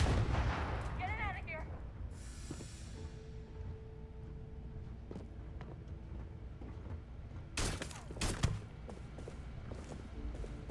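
Gunfire in Starfield, with scattered shots and impacts over a busy combat background, someone talking throughout, and a louder burst of shots near the end.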